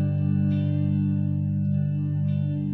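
Guitar G chord faded in through a Boss DD-20 delay pedal with slow, deep modulation, a sustained, swelling chorused pad ringing steadily throughout without any talk.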